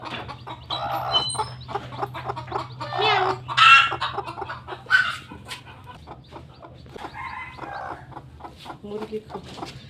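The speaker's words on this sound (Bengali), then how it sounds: "আর এই দেখেন মুরগি থাকছে এই ঘরের ভিতরে।" Hens, one with chicks, cluck and squawk inside a run-down mud house, with agitated bursts and softer clucks close by over a low steady hum; a voice talks now and then.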